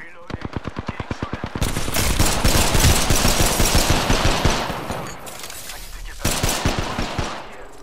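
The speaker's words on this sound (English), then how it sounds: "Getting shot at." Automatic gunfire from the Apex Legends battle royale game: an opening string of evenly spaced rapid shots, then a dense, loud barrage of overlapping bursts that stops briefly and resumes in short volleys.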